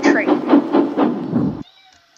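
A cat meows several times in a quick repeating series of short, fairly loud calls, then falls quiet with only faint background hum.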